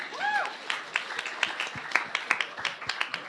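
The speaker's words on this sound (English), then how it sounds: "give yourselves a round of applause" A crowd claps in scattered, uneven bursts, with a short voiced sound near the start over the patter of hands.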